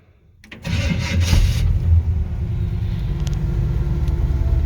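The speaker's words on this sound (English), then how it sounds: "Car sounds great." A 1956 Chevy 3100 restomod pickup engine cranks and catches, then settles into a steady, deep rumbling idle close by.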